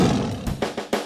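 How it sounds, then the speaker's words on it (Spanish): A cartoon Tyrannosaurus rex roars in a children's dinosaur song, a loud growling roar broken into several pulsing bursts. "Oye mis fuertes pisadas, oye mi fuerte rugido."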